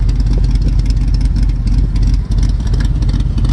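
A 1966 Shelby Cobra race car idles loudly up close, its engine giving a deep, lumpy burble with a steady rhythmic pulse and a slight dip partway through.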